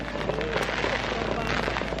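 Fireworks crackle and sputter continuously at a birthday beach party, a dense fizzing hiss with scattered pops, close and fairly loud over the ambient noise of the beach.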